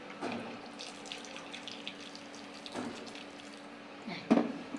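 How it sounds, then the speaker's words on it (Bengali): Water is poured from a tap-like stream into a simmering pumpkin and fried rohu fish curry, a soft continuous splashing that lasts a few seconds before a brief louder gush near the end. "আর একটু পানি দিয়ে দেই।"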